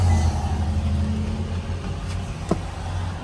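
Used car's engine idling just after starting: a steady low rumble close by, with one brief mechanical chirp partway through.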